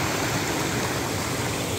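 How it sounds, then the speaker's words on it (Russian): A mineral spring stream flows in Armenia, a loud, steady broadband rush of running water, close by and unbroken throughout. "Это ручей. Золотая река."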